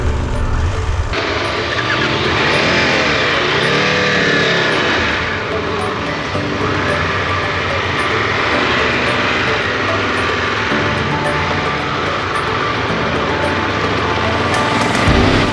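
A Triumph Tiger 1200 motorcycle engine runs steadily through off-road riding in Off-Road Pro mode, a loud continuous drone with rising and falling revs and wind rush, and no one talking.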